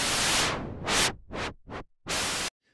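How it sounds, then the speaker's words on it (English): A synthesizer oscillator switched to noise mode produces bursts of bright white noise, several separate hissing blasts of varying length with sharp on and off edges and brief silences between them. "if we switch the oscillator mode to noise, all you're going to hear is white noise"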